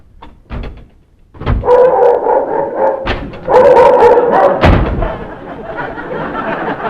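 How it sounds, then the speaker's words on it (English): A dog barking outside, with a sharp bark, a run of loud harsh barks and yips, a bang, then more barking fading into a whimpering tail; fairly close and loud, with no talking over it. "That dog's out there!"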